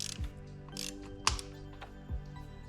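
Ratchet snugging the ignition coil bolts on a Honda CR-V, three distinct clicking pawl strokes heard up close, crisp and separate with brief pauses between, no talking.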